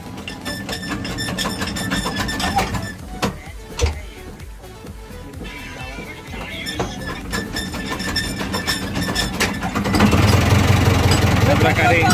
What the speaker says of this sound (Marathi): या प्रकारे इंजिन चालू झालेलं आहे.